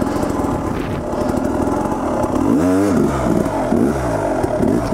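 An enduro dirt bike engine held at a wheelie balance point, revving loud and close with clutch-and-throttle blips and a sweeping rise and fall in pitch near the middle.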